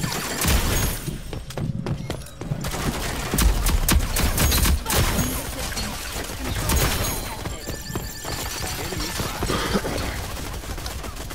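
SMG fire in the video game Rogue Company: dense, rapid bursts of gunfire with sharp cracks and clatter run nearly nonstop, loud and close, with game effects mixed in.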